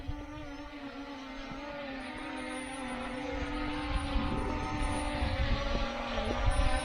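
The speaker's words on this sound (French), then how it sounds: "Donc le drone tourne autour d'un point comme on peut le voir." A ZLL SG907 MAX drone circling around a fixed point, its propellers giving a continuous buzzing drone that grows slightly louder as it passes nearer, alongside a steady background hum.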